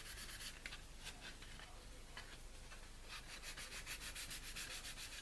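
Sandpaper rubbed back and forth over the hull of a Revell model ship, a close, quiet rasping in quick repeated strokes, steady and uninterrupted with no voices.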